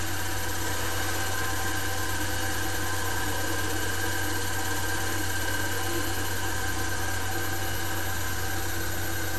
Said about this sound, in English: The DC shunt motor is now running at a speed of around